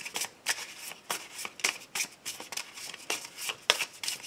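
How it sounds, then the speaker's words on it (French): A deck of Lenormand fortune-telling cards is shuffled up close, with crisp riffling bursts repeating about twice a second and no voices. "je commence mon tirage tout de suite avec un petit Lenormand"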